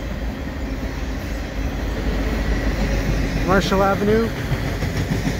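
A CN ES44AC locomotive leads a mixed freight train passing beneath airport access ramps in Dorval, a deep steady rumble of engine and rolling cars close by, while someone briefly speaks over it.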